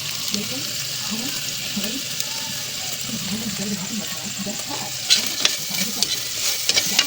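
Frog meat stirred in a sizzling pan gives a steady frying hiss with repeated scraping strokes and a few sharp clinks near the end, while people talk over it.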